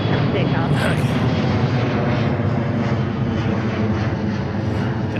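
Jet airliner taking off from runway 34 Right at Seattle-Tacoma airport, a loud continuous engine roar with broadband rumble holding steady throughout, with a voice talking over it.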